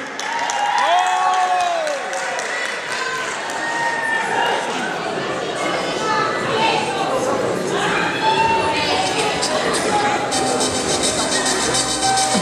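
Crowd clapping and cheering at a university concert fill the space, a steady wash of applause mixed with scattered shouts and chatter, with a voice speaking over it.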